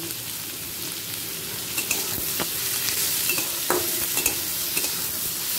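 Chopped onion, potato and capsicum fry in a pan with a steady, close sizzle, broken by several scraping stirs of a spoon against the pan.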